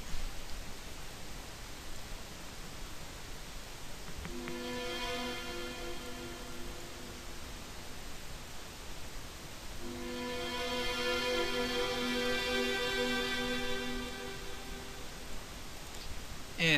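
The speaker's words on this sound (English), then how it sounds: "I'm just going to put the basic reverb on it." Two sustained synth pad chords made in Reason 5 swell and hold, each trailing into a washy reverb tail over a faint hiss.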